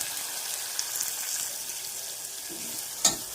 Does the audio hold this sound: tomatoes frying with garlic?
yes